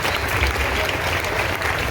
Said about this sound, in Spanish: fuertes aplausos que a los hermanos